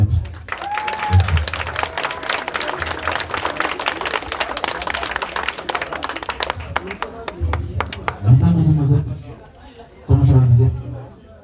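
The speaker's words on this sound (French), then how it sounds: "Est-ce qu'on peut applaudir pour ce couple?" Guests at a civil wedding applaud the couple with loud, dense clapping that fades out midway, followed by a few short bursts of talk and murmuring.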